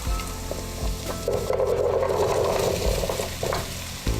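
Pumpkin frying and being stirred in a pan with onion and cumin for a Fiji-style pumpkin curry, a steady close sizzle that swells loudly midway, with occasional scrapes of the spoon and no talking.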